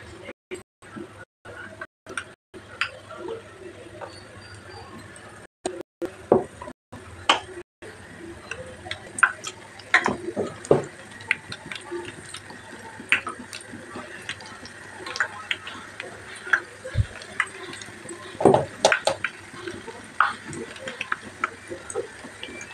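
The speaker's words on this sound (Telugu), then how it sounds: "ఇలా ఒక్కొక్కటి వేసుకున్న తర్వాత కొంచెం వేగనివ్వాలి. బజ్జీలన్నీ ఇలా వేయించుకోవాలండి." Batter-dipped potato slices for aloo bajji fry in hot oil with scattered sharp crackles and pops, irregular and close, over a low bubbling bed, with a few brief dropouts early on.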